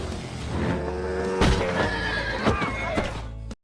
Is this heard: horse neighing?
yes